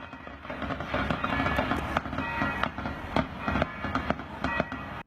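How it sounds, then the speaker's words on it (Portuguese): Sharp gunshot bursts ring out in irregular volleys during an armed clash between police and drug traffickers, loud and close, with a constant roar of crowd and movement underneath. "Em meio às rajadas dos tiros"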